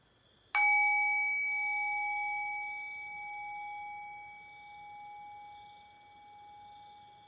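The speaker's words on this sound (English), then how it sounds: "Allow the fading bell to bring your awareness into silence." A meditation bell rings once with a sharp strike, then a clear sustained tone with bright overtones hangs and slowly fades over several seconds, alone and close.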